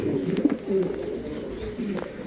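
Red King pigeons coo nearby in a fancy pigeon loft in Durgapur, Rajshahi, a few low throaty coos over a short stretch with a faint voice underneath.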